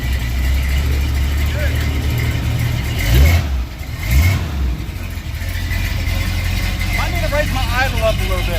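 The engine of a 1970 Dodge D100 pickup idles steadily and close by throughout, with a couple of brief revs partway through and people talking over it.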